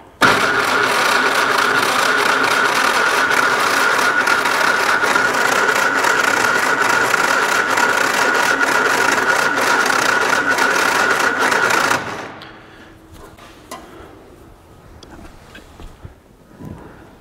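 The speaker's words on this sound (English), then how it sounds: "If I push this start button, the engine should crank" A Jeep Flatfender engine with a new fuel pump cranks continuously and loudly for about twelve seconds without catching, then cuts off into near silence with small handling noises.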